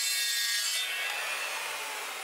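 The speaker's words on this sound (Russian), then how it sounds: "сейчас все царги одну сторону отрезаю под этим углом, далее меняю угол и отрезаю другие стороны" A machine saw cuts wooden chair rails at an angle in a single loud, steady, close rasping cut that slowly fades toward the end, heard alone.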